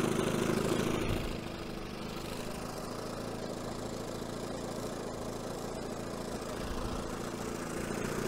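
A 1970 Evinrude 25HP outboard motor idles continuously during a tune-up, its steady close, rough mechanical drone settling a little lower after the first second and then running evenly.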